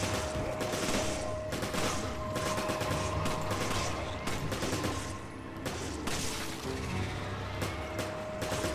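Gunfire in the Resident Evil 5 video game, repeated bursts of rapid shots with crashes and impacts over a constant dense game soundscape, fairly faint, no clear talk.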